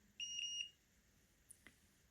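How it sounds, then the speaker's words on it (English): Kitchen timer beeps twice, clear and close, while fingers soak in acetone to lift gel polish; a quiet pause follows, then a soft click or two. "As you just heard, it did beep, and it did beep 2 times."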